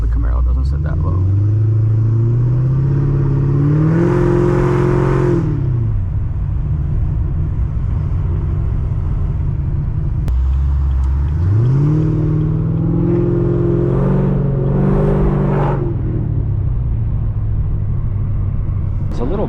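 A Chevrolet Camaro ZL1 driving in the evening with loud exhaust, a deep close engine rumble that rises and falls through two revving accelerations, heard from inside the car.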